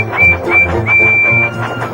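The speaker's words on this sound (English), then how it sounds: "But Percy had heard Thomas's whistle." Several high, thin steam engine whistle blasts, short ones then a longer held tone, over a low rumbling background.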